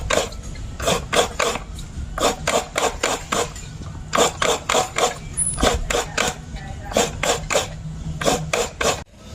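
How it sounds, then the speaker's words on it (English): Coconut flesh scraped on a local hand grater in Guyana for homemade coconut oil, in steady rhythmic bursts of rasping strokes, close and loud, with short pauses between runs of strokes. "here we're grating the coconut"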